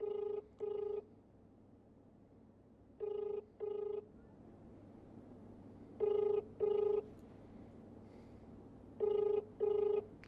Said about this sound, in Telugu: ఫోన్ కాల్ లిఫ్ట్ చేయలేదు